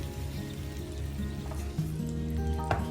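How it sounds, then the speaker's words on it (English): Freshly baked Hasselback potatoes just out of the oven give off a soft, steady sizzle and crackle, heard close up over a low background hum with a few faint clicks. "the Hasselback is out of the oven, literally. You hear the sizzle."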